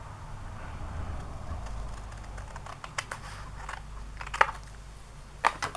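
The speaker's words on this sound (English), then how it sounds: "now I'm just going to cut off this left side" Scissors cut paper for a junk journal ephemera holder in a quiet craft setting, making a few soft snips and crisp cutting clicks that sharpen near the end, close up and with no talking.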